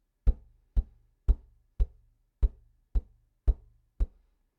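Knuckles tap a guitar body in a steady run of eight hollow knocks, on and between the beats, each short and resonant, close up and alone without talk.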